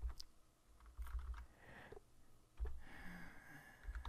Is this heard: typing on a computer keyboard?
yes